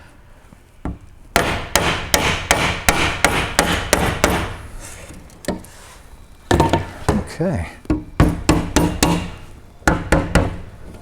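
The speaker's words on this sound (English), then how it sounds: "you'll get a different sound on the hammer there" A hammer taps close by while one-piece side glass is fitted on a 1973-87 Chevy/GMC square body truck. Sharp knocks come in quick bursts with short pauses, and a brief word is spoken.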